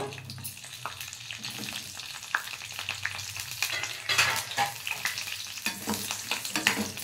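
Green chillies with small slits sizzle steadily in hot oil, a continuous close frying crackle with occasional sharper pops and scraping stirs throughout.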